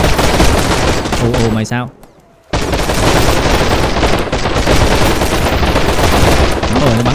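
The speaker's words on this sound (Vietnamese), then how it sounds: "Đúng rồi, nó bắn kinh quá em ơi." Enemies fire bursts of automatic gunfire in the survival game Sunkenland, loud rapid volleys that break off briefly then resume heavily, with a player speaking over the shooting.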